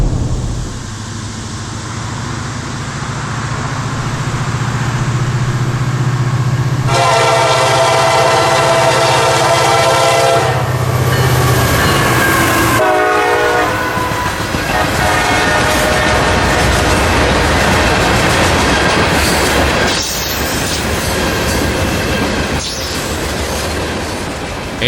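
A freight shuttle train hauling lime rock loads from Winston Yard at Lakeland to Wildwood passes close by, with loud horn blasts followed by heavy wheel clatter and some squealing, all without talk.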